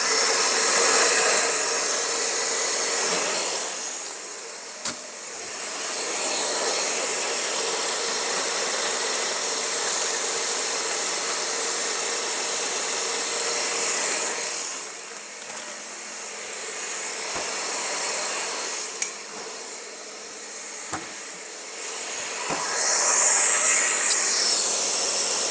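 A blender whirs loudly and continuously while blending a high-protein gainer smoothie, its motor drone dipping briefly around the middle before surging again, with a few faint clicks.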